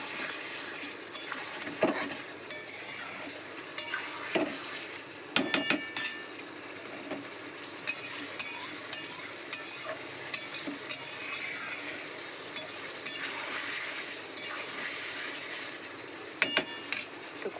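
Onion and spices sautéing in a pan, a soft low sizzle with scattered clinks and scrapes of a utensil against the pan, fairly quiet throughout.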